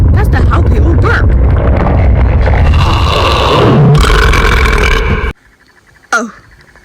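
A cartoon character lets out a long, loud, drawn-out burp that rumbles for several seconds before cutting off abruptly, followed by a brief shorter vocal sound.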